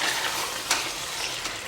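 Kadaknath chicken curry masala from Jhabua fries in an open pan, a close, continuous sizzle with a couple of brief stirring scrapes, and nobody speaking.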